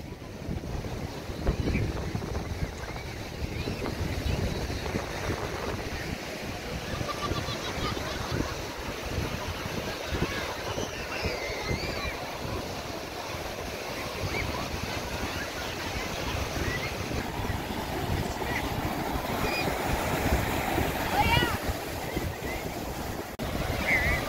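Steady wind roars across the beach at Lori Wilson Park in Cocoa Beach, Florida, a constant blustery rush blended with surf, with faint voices in the background.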